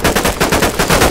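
Gunfire in the video game Operation Harsh Doorstop comes as a loud, close rapid burst of automatic shots, about six or seven evenly spaced cracks in quick succession, with no talking over it.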